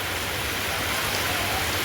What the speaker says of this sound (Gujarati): ફૂલ વરસાદ આવે છે અત્યારે